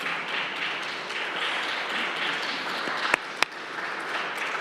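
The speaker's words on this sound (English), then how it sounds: "Give them a round of applause." Steady applause fills a city council meeting chamber, a broad wash of clapping from a seated audience with a couple of sharp louder claps near the end before it begins to thin out.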